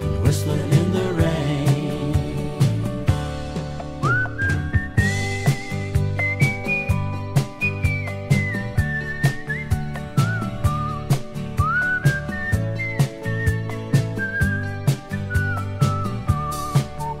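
A clear, melodic whistled tune glides over a 1979 country song's steady band accompaniment of guitar, bass and drums, the whistling carrying the lead line in a long sustained phrase.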